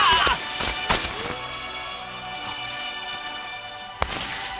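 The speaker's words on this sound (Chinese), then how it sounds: "开枪！ 开枪！" Rifle gunfire in a period-drama battle scene, a few sharp loud cracks with shouted voices at the start, then tense background score and another single shot near the end.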